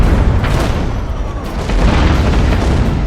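Ship cannon fire in the naval video game Abandon Ship, loud booming blasts with a heavy low rumble and several sharp bursts rolling through the moment.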